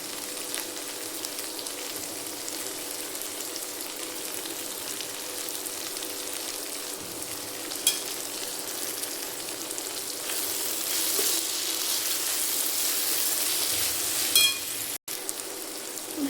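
Gavar and bombil bhaji simmering in a pan for a rustic Khandeshi dish, giving a steady soft sizzle and crackle throughout with a few brief louder pops near the end.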